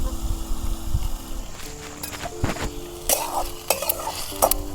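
Close scraping and clinking of a spoon stirring wild leafy vegetables in a pan, in several short bursts over a soft sizzle.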